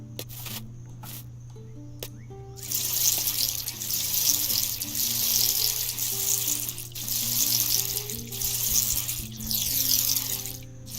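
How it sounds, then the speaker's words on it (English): Crops are watered in the farming game Dinkum with a steady splashing, faucet-like stream of water that starts after a couple of seconds and continues over a low looping background tune, with no talking. "We'll go and water our crops."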